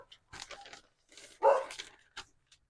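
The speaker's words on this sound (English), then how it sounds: "barking" A dog barks a few times at close range, short separate yaps in a quiet indoor room, with faint rustling in between.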